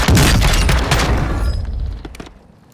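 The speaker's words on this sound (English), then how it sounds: "Craig, behind us, shoot!" Dense video game gunfire on the Ashika map, loud bursts of automatic shots and booms rattling close, then tapering off into scattered shots.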